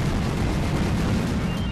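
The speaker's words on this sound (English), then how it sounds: "Explosion's so fun to use." The Explosion move in the Pokemon Moon video game goes off as a loud, sustained blast, a dense rumbling roar that fills the whole moment without a break.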